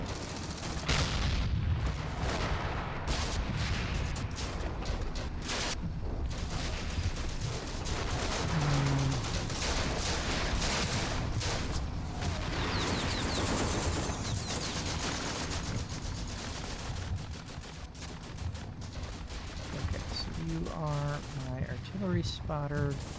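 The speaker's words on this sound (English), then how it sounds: "We've got mortars hitting it. We've got lots of troops suppressing them." Dense infantry gunfire crackles almost nonstop in Combat Mission: Afrika Korps, with bursts of rifle and machine-gun fire and heavier mortar thumps and booms mixed in. A voice speaks briefly near the end.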